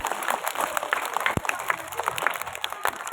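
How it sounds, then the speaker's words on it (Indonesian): A school audience at an elementary school's Prophet's Birthday celebration applauds a teacher, a steady patter of light clapping with a few sharper individual claps, moderately loud throughout. "tepuk tangan untuk Bu Arum"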